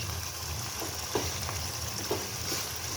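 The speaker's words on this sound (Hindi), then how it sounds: "यहाँ पे हमारा चिकन जो है अच्छी तरह फ्राई हो रहा है।" Chicken frying with tinda (round gourd) in a pan gives a continuous, even sizzle close by, broken by a few soft stirring scrapes.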